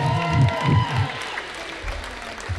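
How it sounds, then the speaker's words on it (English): Applause for graduating seniors in a gym at a varsity boys basketball game, short and fading, with a voice talking through it and low thumping in the background. "Let's have one more round of applause for our seniors."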